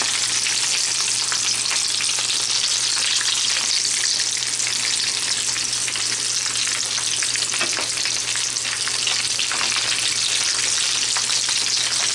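Chicken and potato taquitos fry in a pan with a loud, dense, continuous crackle of hot oil. The sound stays even and close throughout, with no talking.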